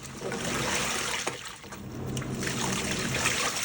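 Water trickles and sloshes gently inside a Panasonic 9.5kg top-load washing machine during its soak cycle. The sound is close and fairly steady, with soft splashes and a brief dip partway through, and no speech.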